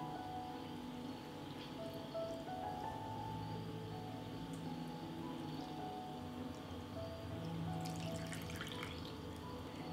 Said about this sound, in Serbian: I zatim ću vodu sipati u teglu.